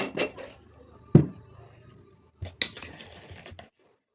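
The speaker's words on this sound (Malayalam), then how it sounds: "ഒന്നും കൂടി മിക്സ് ആക്കട്ടെ." A spoon clinks and scrapes against a small bowl while mixing a paste of sandalwood, coffee powder and curd, giving a few sharp taps and short stirring scrapes close by, with pauses between.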